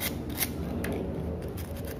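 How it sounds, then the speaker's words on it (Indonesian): Sandpaper rubs over a cracked scissors handle in quick, scratchy strokes. The scraping comes in short bursts, close and fairly loud, with no talking. "kita bisa gunakan amplas untuk menghaluskan"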